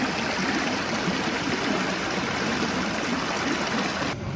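Filtered water is squeezed into a jug and a drinking bottle at a campsite in Sequoia National Park, a steady, close rush of flowing water that runs without pause until a faint drop at the end.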